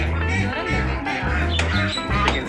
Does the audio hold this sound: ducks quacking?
yes